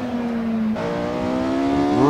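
A Porsche 918 Spyder engine in netKar Pro droning steadily as it decelerates under heavy braking, its pitch shifting with a downshift before rising again near the end.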